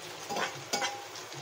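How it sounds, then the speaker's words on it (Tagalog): Pasta goes into a pan for a creamy pesto dish and is stirred, giving soft sizzling and scraping bursts in a short, quiet stretch with no talking. "Lagay na natin yung pasta."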